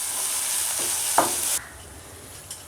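Ginger garlic paste and onion pieces fry in a pan for a mutton cashew curry, with a close, bright sizzle and a quick stirring scrape before the sizzle abruptly drops to a faint hiss.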